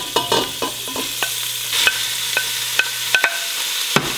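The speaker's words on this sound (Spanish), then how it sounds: "Espero que el aceite esté caliente, bien, bien, bien y le agrego la carne" Meat dropped into hot oil in a pan, giving a steady frying hiss broken by sharp clicks and clatters of stirring and the utensil, with a low hum running underneath.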